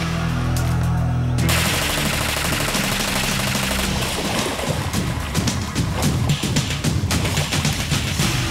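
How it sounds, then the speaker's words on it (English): An HK MP5 submachine gun fires from a closed bolt in dense, rapid bursts of loud, close cracks that run almost continuously after a brief tonal opening. "firing from the closed bolt position during all modes of fire makes MP5 submachine guns extremely accurate and controllable"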